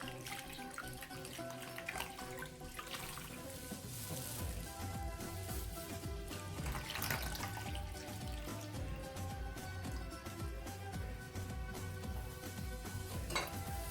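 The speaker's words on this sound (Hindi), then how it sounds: "अब इसके अंदर हम इतना पानी डालेंगे कि गोश्त इसके अंदर डिप हो जाए।" Water poured from a tap over meat in a pot with vinegar, cloves and cinnamon for homemade pastrami: a steady, loud, unbroken rush of running water, with a faint tonal hum underneath.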